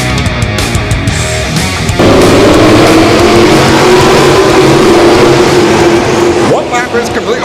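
Crate sprint cars race at Ohsweken Speedway, engines roaring loud and steady with a rising whine as they hold the throttle, voices faintly mixed beneath the continuous racing noise.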